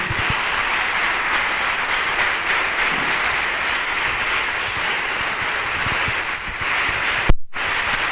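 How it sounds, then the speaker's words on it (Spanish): Steady clapping from a congregation at a worship service, dense and continuous throughout, with a brief sharp knock near the end. "No dejes de aplaudir, no dejes de aplaudir."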